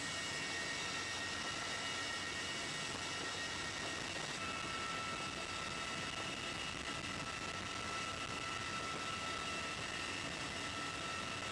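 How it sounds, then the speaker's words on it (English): Inside the cabin of a CH-47 Chinook twin-rotor helicopter in flight, with a steady, dense engine and rotor roar droning continuously at an even level throughout, with no voices. "In flight, the soldiers sit in the dim cabin with the constant heavy vibration of the twin rotors above them."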